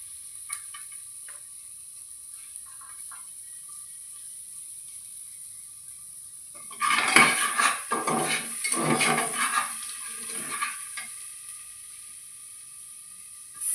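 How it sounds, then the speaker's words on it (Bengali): Chopped garlic dropped into a hot pan for chicken stew: a steady background hum gives way to a sudden bright sizzle that crackles and hisses for several seconds before settling. "দিয়ে দিচ্ছি রসুন কুচি"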